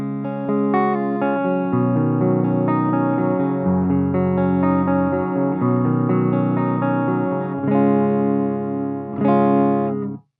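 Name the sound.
electric guitar, neck pickup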